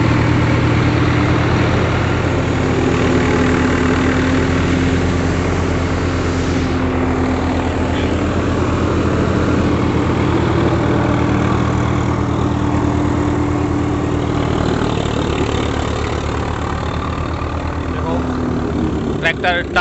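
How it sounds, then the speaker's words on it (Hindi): A Swaraj 744 XT tractor engine runs steadily under load while driving a thresher in first gear, a loud continuous low drone with no pauses. "ट्रैक्टर टार्क की वजह से एडजस्ट कर रहा है"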